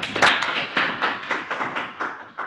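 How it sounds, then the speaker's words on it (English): A small group claps for a speaker at a video studio orientation, a short sparse run of distinct, fairly close claps with no talk. "let's give Chris a round of applause."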